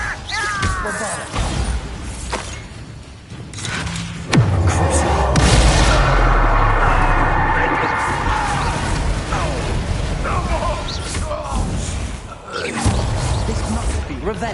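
A Bombarda blasting spell in Hogwarts Legacy goes off with a heavy boom and a rumbling, crashing burst lasting several seconds, set among game effects and voices talking.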